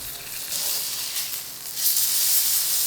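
Burger patty searing on a hot griddle with beef tallow, giving a steady loud sizzle and hiss that swells and fades slightly throughout.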